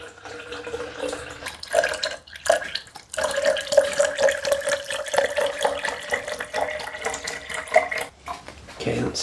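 Cranberry juice poured into a container while brewing mulled white wine, a steady gurgling liquid stream with brief pauses and splashes, close and fairly loud, lasting most of the stretch.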